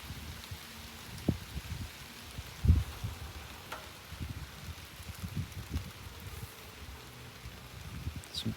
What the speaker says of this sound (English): I think that may be my propane heater that they're tippity tapping on.